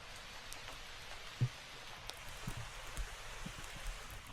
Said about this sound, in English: Rain's calmed down quite a bit now